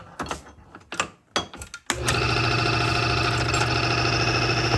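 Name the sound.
engine running without oil film at Prolab factory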